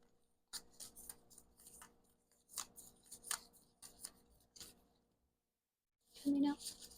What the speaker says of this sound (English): Definitely the world's worst shuffler, but the shape of these cards makes it a little extra tricky too.